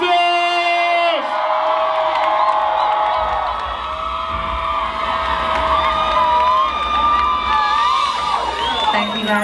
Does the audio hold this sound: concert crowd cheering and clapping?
yes